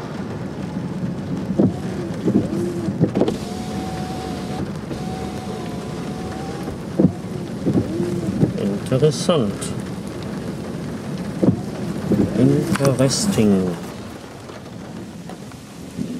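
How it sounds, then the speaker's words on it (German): Steady rain with rolling thunder rumbling in the distance during a thunderstorm, while a couple of people talk quietly over the downpour. "Hey, der Regen lässt nach."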